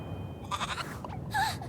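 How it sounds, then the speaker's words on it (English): A goat bleats in the Little Goody Basket video game, two short wavering calls heard close and alone over a low background hum. "Is that just a goat?"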